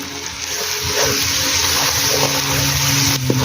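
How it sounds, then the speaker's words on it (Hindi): Water splashed into a pan of potato and capsicum masala, a steady gushing, sizzling wash of liquid sound lasting a few seconds with a small clunk near the end, close and alone without talk. "अब हम इसमें 1 सिप पानी डालेंगे ताकि नीचे से मसाला जल जाए।"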